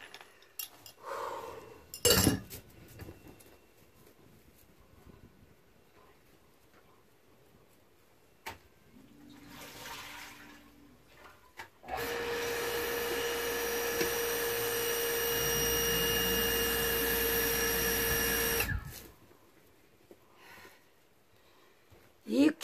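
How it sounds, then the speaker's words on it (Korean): A household water pump that had broken runs while pumping water: after quiet handling noises, a loud steady mechanical whine and rattle holds for about seven seconds, then stops abruptly. "물을 올려보면 기계가 그 소리가 나요."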